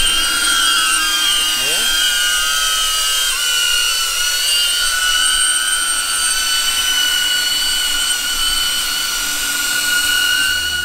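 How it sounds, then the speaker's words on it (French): A DJI Avata FPV drone flies close by, giving off a loud, shrill, piercing whine with shifting high tones that stays constant throughout. "C'est le drone le plus bruyant que j'ai jamais entendu chez DJI."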